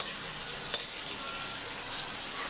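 Drumstick and brinjal sautéing in a pan with chilli powder, a steady close sizzle and hiss of frying throughout, with one brief stir clink, no voices.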